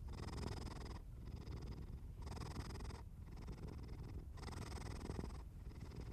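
A cat purrs softly and steadily in slow, rhythmic cycles of inhale and exhale, close but quiet, with no other sounds or voices.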